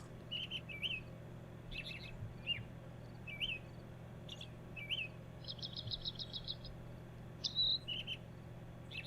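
Birds at a birdhouse in The Crimson Maid video game chirp in short, scattered bursts and a quick trill over a low steady hum, fairly faint with no voices.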